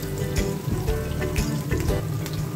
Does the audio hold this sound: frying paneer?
yes